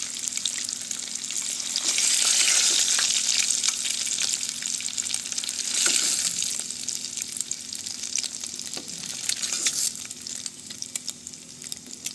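Onion pieces hit a hot frying pan for a Telugu egg and dried-fish drumstick curry, giving a loud steady sizzle that swells around the additions and continues unbroken, with no voices.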